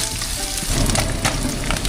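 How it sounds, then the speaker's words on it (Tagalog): Steady, close crackling sizzle of fish frying in hot oil, with dense spitting pops throughout and no voices. "Habang tayo nagpiprito po"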